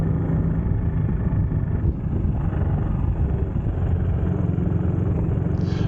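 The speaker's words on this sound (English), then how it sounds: "They make some strange noise, these bikes do, when you're running them on the camera" A BSA C11 Deluxe motorcycle engine runs on a shakedown ride, a loud, steady low rumble that holds without a break throughout, with no talking.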